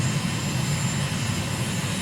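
A fast jet in Microsoft Flight Simulator flies with a steady, loud, broadband engine roar that holds evenly throughout, with no voices over it.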